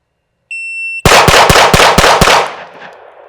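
Pistol fire on a shooting range, Glock or Staccato: a timer beep, then six sharp shots in rapid, evenly spaced succession, loud and close, with a brief reverberant tail.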